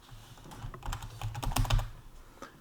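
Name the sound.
typing on a computer keyboard to write a word down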